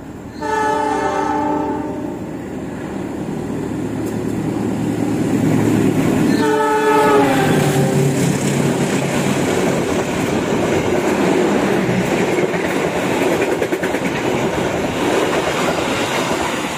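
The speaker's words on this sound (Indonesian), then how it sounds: "Ya, kita tunggu kereta api Wijayakusuma lintas langsung." A train horn sounds twice, then the rumbling roar and clatter of the passing Wijayakusuma express train in Indonesia builds and continues steadily, loud and close.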